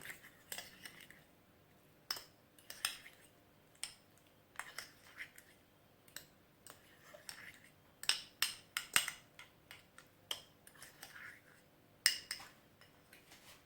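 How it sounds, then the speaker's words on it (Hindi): Yogurt with mint leaves being stirred in a bowl for an egg sandwich filling, a spoon clinking and scraping against the bowl in irregular taps and scrapes, moderately quiet and close. "अभी इसको मैं अच्छी तरह मिक्स कर लूँगी"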